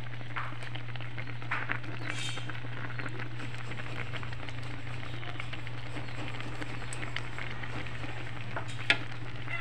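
Coconut milk simmers in a pot for ginataang kangkong with okra and dried fish, a soft steady bubbling and sizzle under a constant low hum, with occasional faint clinks nearby.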